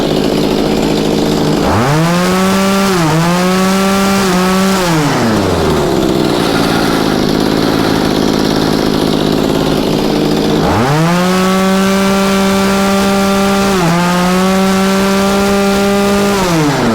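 Two-stroke chainsaw engine freshly carburetor-tuned, revved hard twice in two bursts of sharp rising whine with quick blips, dropping back to idle between them, loud and close.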